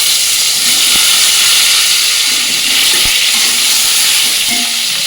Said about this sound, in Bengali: এবার হলুদ নুন মাখিয়ে রাখা যে পটলটা দিয়ে দেবো